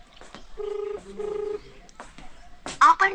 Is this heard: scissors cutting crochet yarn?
no